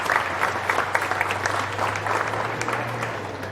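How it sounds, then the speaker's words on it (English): Audience applause at a county fair beef cattle show, a dense steady patter of many hands clapping for the exhibitors, with a low continuous hum running underneath throughout. "Give these exhibitors a nice round of applause and a really good entry."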